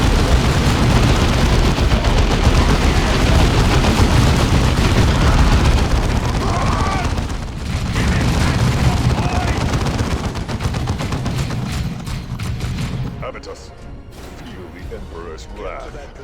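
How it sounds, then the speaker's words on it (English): Heavy bolter gunfire in the Warhammer 40,000: Dawn of War II strategy game, dense rapid bursts with booms and mechanical clatter, loud and continuous before thinning out near the end, with voices mixed in. "Our heavy bolters are deadly, but they take time to set up and have a limited field of fire"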